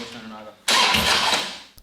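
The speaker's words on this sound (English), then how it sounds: "Tried firing the bike up, there's no spark." Harley-Davidson motorcycle being cranked after a makeover with no spark: a sudden loud, harsh whirring burst that holds about a second and then fades, preceded by a quieter low rumble.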